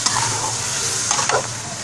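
Tomatoes, green chillies and yogurt being stirred into chicken in a hot pan for a ginger chicken karahi, a steady close sizzle with a few scraping stirs near the end.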